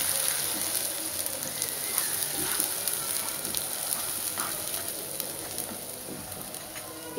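Onion paste hits browned fried onions in a hot pan and sizzles in a steady, hissing crackle. Frying noise fills the whole stretch at moderate level, close up, with faint stirring ticks.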